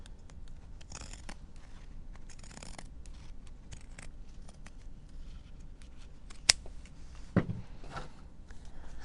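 Scissors snip thread while a Christmas stocking is sewn, giving a few quiet, close cuts spread out over a hushed room, then a single sharp click and a brief rustle.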